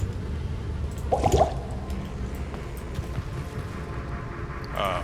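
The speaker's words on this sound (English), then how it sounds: "this dude is still dripping." Blood dripping in the dark dungeon setting of Diablo 2 Resurrected, a brief cluster of wet drips and a squish near the middle over a low ambient rumble, with another faint splash at the end.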